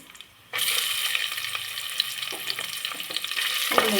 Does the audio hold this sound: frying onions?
yes